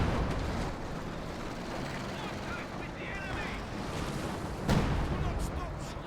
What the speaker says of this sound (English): This is barrage.